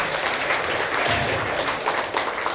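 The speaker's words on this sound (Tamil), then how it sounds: "தோர கைதட்டுங்க." An audience at an award ceremony honouring an astrologer claps loudly and steadily in a hall. A dense, continuous wash of hands with some low rumble beneath.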